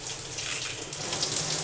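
Water sprays steadily from an adjustable shower head fitted with a chlorine-removing Sprite high output shower filter, a continuous broadband hiss that grows slightly stronger toward the end, heard alone.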